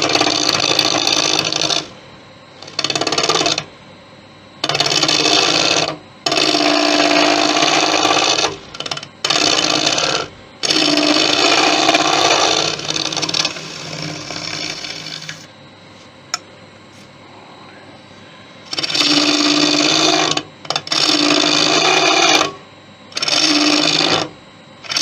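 A ball gouge cuts deep inside a Thai redwood vase spinning on a lathe, giving loud bursts of rough scraping, each lasting one to three seconds with brief pauses between. A quieter, duller stretch comes in the middle.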